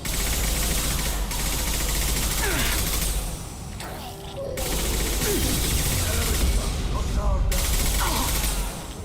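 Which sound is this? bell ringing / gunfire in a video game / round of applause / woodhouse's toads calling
gunfire in a video game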